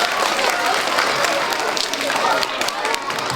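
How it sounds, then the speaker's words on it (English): Audience applause at a school brass concert, dense clapping across the whole stretch at a steady, moderately loud level with no voices over it. "I appreciate the applause"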